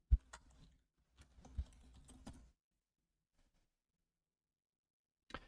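Someone types a short phrase on a computer keyboard: two quick bursts of close, crisp key clicks separated by a pause, then silence and one last isolated tap.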